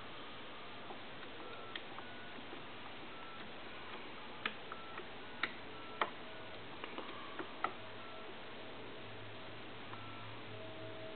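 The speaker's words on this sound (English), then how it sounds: "I'm also going to go ahead and dial some numbers here." Faint, sparse mechanical clicks and ticks from a Western Electric Americana rotary telephone dial spread over a steady background hiss, a few sharper snaps standing out.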